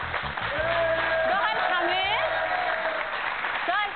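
An audience applauds in a studio, a steady wash of clapping that runs under someone speaking over it for the whole stretch.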